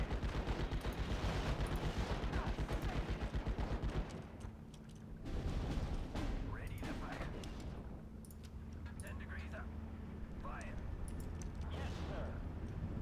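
Machine gun fire rattles amid distant artillery in a Normandy 1944 hedgerow battle in the Steel Division: Normandy 44 strategy game. Dense continuous gunfire dominates at first, then the shooting thins into scattered shots under battlefield noise.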